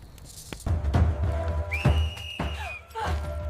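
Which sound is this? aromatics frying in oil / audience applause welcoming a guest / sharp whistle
sharp whistle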